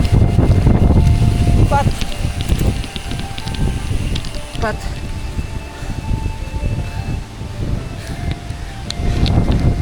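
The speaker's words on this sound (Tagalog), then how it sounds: "Lakas bigla ng hangin." Strong storm wind buffets a campsite in Tanay as a typhoon hits, roaring in heavy gusts against the microphone, with people talking over it.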